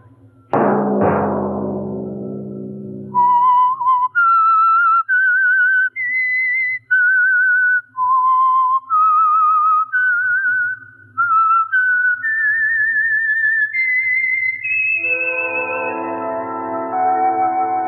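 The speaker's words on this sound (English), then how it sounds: "Let that whistle be your signal each Sunday" A loud, clear whistled theme melody of sustained notes plays after a bright opening chime, ending on a rich orchestral chord, from a classic radio program.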